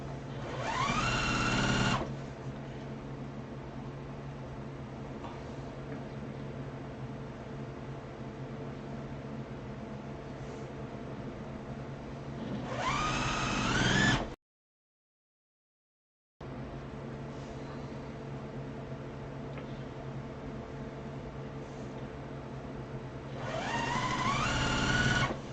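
Sewing machine stitching quilt block pieces together in a steady, fairly soft hum, with brief louder bursts at the start and end of each seam and a short silent gap midway.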